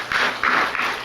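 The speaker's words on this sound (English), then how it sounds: "Everybody give me one more round of applause for all of our tablers." A public safety forum audience applauds for the people staffing the tables: a short, close burst of clapping that swells in a few uneven waves over about a second.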